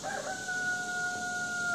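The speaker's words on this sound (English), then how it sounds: "Crazy rooster." A rooster crows once outdoors at sunset on a rural property: a single long, drawn-out call at moderate distance, loud and clear over a steady background hiss, with no talking.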